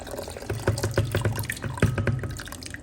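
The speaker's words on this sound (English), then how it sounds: "so I pour some hot water on it here" Hot water poured into a blender over peanut and oats for a Jamaican strong back punch drink, heard as close, bubbly splashing with several sharp drips and gurgles.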